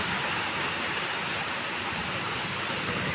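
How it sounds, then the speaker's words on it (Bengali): Heavy rain pouring down outdoors under a dark sky, a dense and steady loud hiss of drops with no breaks, close and continuous, and no voices. "মুষলধারায় বৃষ্টি হচ্ছে।"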